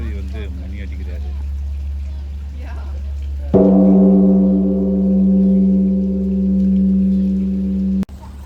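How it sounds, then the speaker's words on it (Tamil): A large temple bell struck by a monk booms out once and rings on in a long, steady humming tone that sustains loudly, cut off abruptly near the end, with no voices over it. "துறவி வந்து மணி அடிக்கிறாரு."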